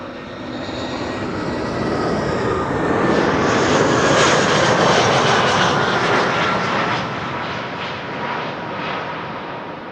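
An airliner going around at Amsterdam Schiphol roars overhead, its engine noise swelling to a loud, broad peak and then slowly fading as it climbs away.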